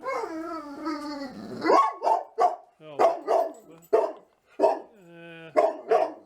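A dog howls in a long drawn-out wail, then barks in a quick series of sharp, close, loud yips and barks while someone briefly speaks.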